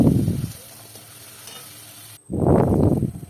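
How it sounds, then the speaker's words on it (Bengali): Turmeric, cumin, chili and salt sauté with a splash of water in a pan for shol fish curry, heard as two loud bursts of close sizzling and stirring separated by a quieter stretch. "তো জলটা দেওয়ার পরে বেশ কিছুক্ষণ আমি কষিয়ে নেব।"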